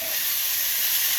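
Quail with eggplant, celery and basil stir-fries in a hot pan for a spicy Cambodian dish, a loud continuous sizzling hiss alone.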